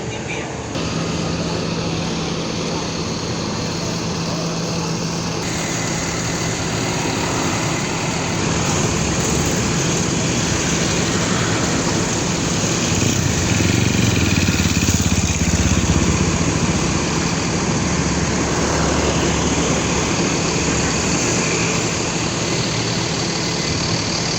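A ship's engine runs on board a boat, a loud, steady low drone with constant hum that swells slightly midway, while voices murmur faintly in the background.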